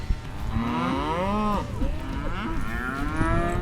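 Several cattle moo in overlapping, drawn-out calls while dry cows are being sorted off from the herd, loud and close, one long low moo followed by more bellows, without talk.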